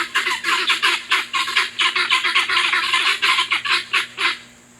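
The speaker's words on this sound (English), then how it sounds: "Guineas are funny birds. They travel together in a group." A group of guinea fowl calls nearby, loud rapid repeated harsh cackling notes in a steady rhythmic chorus that runs for several seconds before stopping abruptly.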